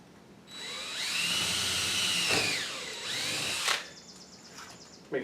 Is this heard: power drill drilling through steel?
yes